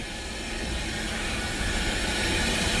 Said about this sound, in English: So I'm hitting the brake. Is that not the scariest thing?